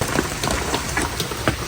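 Heavy monsoon rain pours steadily during a flood, a dense hiss with scattered drops spattering on surfaces, loud and continuous for a couple of seconds with no talking.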